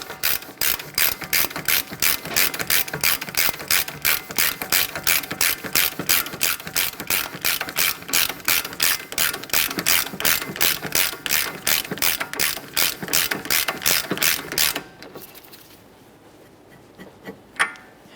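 An axle nut being tightened by hand on a 2011-2020 Toyota Sienna with a ratchet, giving a fast, even run of crisp clicks for about fifteen seconds, close and loud, then stopping with a few faint handling sounds.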